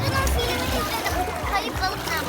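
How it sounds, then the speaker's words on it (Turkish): Splashing water in a pool where a tail flaps, with a child and an adult talking over the watery splatter throughout. "Bak bak nasıl kuyruğunu çırpıyor."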